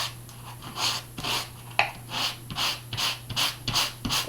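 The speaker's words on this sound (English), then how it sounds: "I'm just going to sand" Sandpaper rubs along the edges of canvas for a mixed media background in a run of quick rhythmic rasping strokes, close and moderately loud over a low steady hum.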